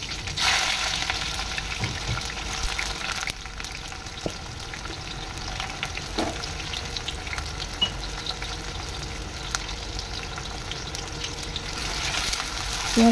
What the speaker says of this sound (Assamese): পিঁয়াজখিনি অলপ সময় ভাজি ল'লোঁ।